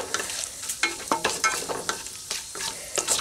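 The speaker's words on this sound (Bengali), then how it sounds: "ফোড়নটা দিয়ে জাস্ট একটু নাড়াচাড়া করে নেব" Bay leaves, dried chillies and cumin frying in hot oil for a soybean curry tempering, stirred in quick repeated scraping strokes over a steady close sizzle.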